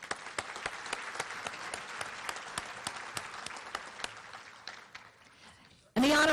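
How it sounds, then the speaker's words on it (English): An audience claps steadily at a law enforcement appreciation luncheon at PGA National, applause fading over several seconds before a loud burst of other sound cuts in at the end. "A round of applause."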